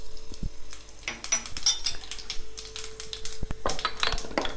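Tempering seeds, including cumin, sizzling in hot oil for a cucumber roti pachadi, with sharp clinks of a utensil against the pan and soft crackling spread across the moment.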